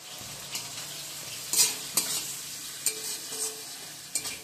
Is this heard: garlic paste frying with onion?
yes